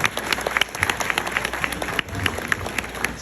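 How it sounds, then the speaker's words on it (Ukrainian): Applause from an audience honoring a Bronze Star recipient at a Ukrainian community gathering in Philadelphia, scattered individual claps forming a moderate, uneven patter that briefly dips midway. "Оплески."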